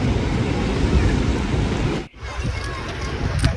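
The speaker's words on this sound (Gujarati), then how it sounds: "થોડું પણ પાણીનો અવાજ તમને તો છે" Water rushes loudly and continuously at Dharoi dam on the Sabarmati river, a broad roaring wash mixed with wind buffeting the microphone, with a brief dip partway through.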